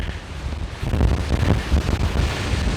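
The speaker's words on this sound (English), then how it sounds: "He's been sat cowering out of the wind. Well, I say cowering, it's pretty blowy." Strong wind gusts across an open moor, buffeting the microphone with a loud, low roar that swells and eases over a few seconds, with no voices.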